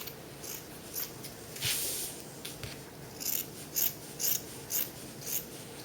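Scissors snip through fabric pieces for a baby burp cloth, giving a series of short, close, crisp cutting strokes in a steady rhythm, with no talking.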